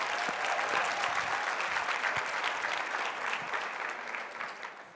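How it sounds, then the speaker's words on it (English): A conference audience in New Orleans gives a round of applause for visiting attendees, full steady clapping from a large crowd that gradually tapers off near the end. "give a round of applause to all our visitors right now"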